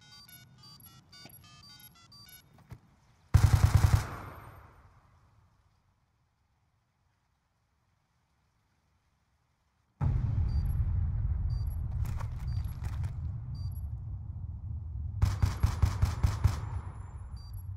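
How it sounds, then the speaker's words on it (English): Gunfire in a competitive shooter video game comes in sharp bursts of rapid automatic shots, with short game-interface beeps and chimes, a quiet gap, then sustained loud firing and another burst near the end. "Just taking advantage of Unborn's missed shots there"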